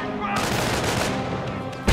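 Dense, rumbling gunfire and explosions hit a base in the Company of Heroes strategy game, a loud continuous battle barrage with no clear pauses.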